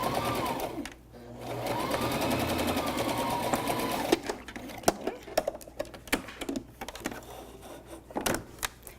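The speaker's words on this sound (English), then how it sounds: "then you can just sew the bottom seam" A sewing machine runs a steady whirring stitch along the bottom seam of a pillow cover, then gives way to scattered clicks and small handling noises of fabric nearby.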